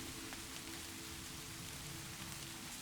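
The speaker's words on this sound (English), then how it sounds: "The rain keeps watch beyond the window." Steady rain falls outside a cabin window, a dense even patter and hiss with no pauses, close and continuous.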